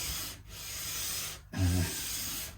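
Guitar saddle being sanded on lighter-grit abrasive while setting up a Faith Venus guitar, heard as steady close rubbing swipes with brief pauses and one slightly louder, heavier stroke near the end.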